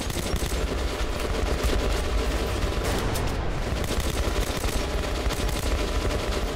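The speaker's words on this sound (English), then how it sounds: "This gun has a lot of wild recoil." A mounted gun in the video game Metro Last Light fires a loud, continuous rapid burst of shots, dense and unbroken for several seconds with no talking.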